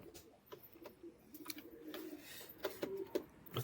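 Soft, low cooing of a Madras pigeon in short repeated phrases, fairly close, with light rustling and faint background noise between calls.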